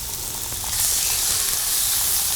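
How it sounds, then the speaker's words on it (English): Walleye laid flesh side down in a hot cast iron pan gives a loud, steady sizzle close by. The hiss swells a little after the first moment and holds with no pause. "you wanna hear that sizzle"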